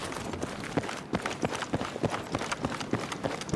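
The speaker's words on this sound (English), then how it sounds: "I do hear a footstep." Footsteps in the video game Battlefield Redsec, a steady quick run of soft thumping steps at a moderate distance, rhythmic and continuous with no talk over them.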